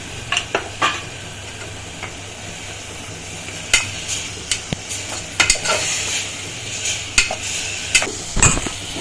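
Ginger-garlic paste fries in a pan for mutton kheema pulao, a steady sizzle broken by repeated sharp scrapes and stirring clinks of a spoon against the pan.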